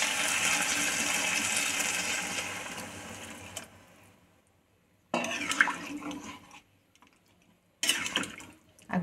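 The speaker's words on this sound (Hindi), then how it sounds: "एबे एथिरे आमे पानी अल्प देद।" Water poured into a pan of fish curry masala cooking on the stove: a steady splashing pour that fades out, then sizzling and liquid bursts after a pause, with faint kitchen clatter.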